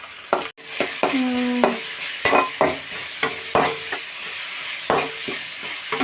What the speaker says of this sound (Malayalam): അതിനായി നമുക്ക് ഉള്ളി വഴറ്റിയെടുക്കാം